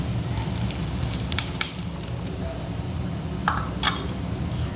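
Fried onion tempering tipped into a pot of cooked dal for paruppu kulambu, with a faint hiss and a few sharp metallic clinks of the pan and spoon against the pot over a low steady rumble.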